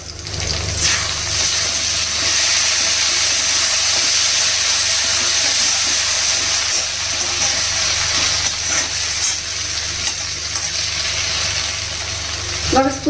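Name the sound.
leafy greens cooking covered on low heat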